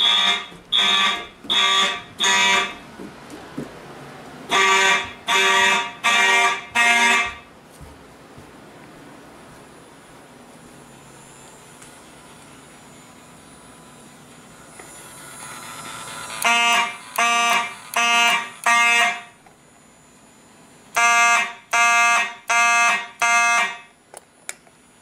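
A fire alarm system under test blares repeated electronic chord tones in a steady four-beat pattern, bursts of four pulses separated by pauses, loud and close, with a quieter hum between groups.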